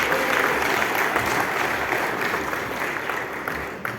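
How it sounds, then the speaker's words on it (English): An audience at a corporate partner conference applauds as a guest joins the presenter on stage, a loud sustained burst of clapping that gradually eases toward the end. "Give him a round of applause, please."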